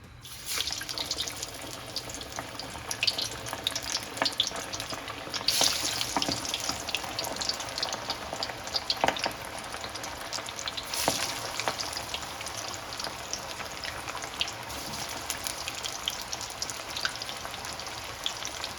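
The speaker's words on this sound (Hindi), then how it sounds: "ऑयल बिल्कुल गर्म है और आपने गर्म तेल में ही इसको फ्राई करना है 3 मिनट के लिए" Fish frying in hot oil for a Lahori fish fry, a continuous crackling sizzle with irregular popping bursts, close and fairly loud, with no talking.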